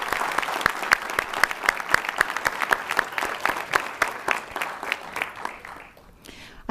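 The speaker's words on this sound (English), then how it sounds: "We give them a round of applause." Applause from a small audience at a school board of education workshop meeting, steady rhythmic clapping from a modest group lasting about six seconds before tapering off near the end.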